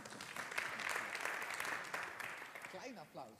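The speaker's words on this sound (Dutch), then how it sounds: "Ja, een klein applaus." An audience at an NOC*NSF livestream event gives a small round of applause, a steady patter of clapping heard at moderate distance, with a voice starting to speak as it fades.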